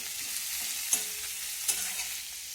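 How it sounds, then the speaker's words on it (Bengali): Chopped onion fries lightly in refined oil in a wok for egg chowmein, a steady close sizzle broken by two sharp clinks of a utensil against the metal. "পেঁয়াজটাকে দিয়ে একটু নাড়াচাড়া করে ভেজে নেব"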